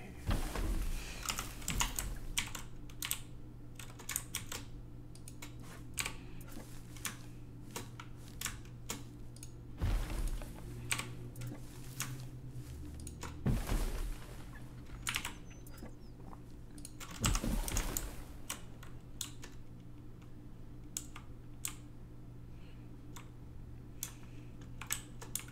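Steady clacking of keys on a mechanical keyboard, near and crisp, with uneven bursts of fast typing and brief pauses over a low background hum.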